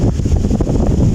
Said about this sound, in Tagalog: Presko, sarap ng hangin dito.